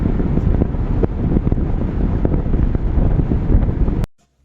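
Cold wind roars steadily through a road tunnel in Arunachal Pradesh, a loud, broadband buffeting rush hitting the microphone without pause, cutting off abruptly near the end.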